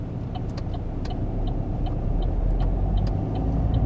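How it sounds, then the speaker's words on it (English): A car pulls out of a parking space in a car park, its engine a low, steady rumble close by, with faint regular ticking above it throughout. "We're just leaving our car parking space."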